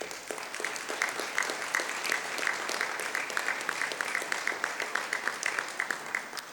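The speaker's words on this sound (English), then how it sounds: "And I think that deserves a huge applause." Dense, steady applause fills a graduation convocation hall at the NSCC Lunenburg Campus in 2018, a continuous patter of many hands clapping at even loudness throughout with no speech over it.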